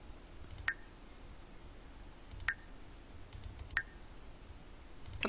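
A phone in use in The Sims 4, heard as a few sharp, evenly spaced electronic clicks or dial tones over a quiet, low background hum.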